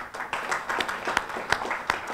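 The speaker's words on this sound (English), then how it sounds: "But really want to have a round of applause for Carmen Lina" Audience applause at the dedication of the McClellan Ranch Preserve Environmental Education Center and Blacksmith Shop, a moderate round of clapping with a few sharper individual claps standing out, heard from within the crowd.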